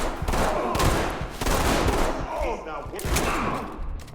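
Dense, rapid gunfire from a tactical shooter video game fills the clip in loud, continuous volleys while players talk over it.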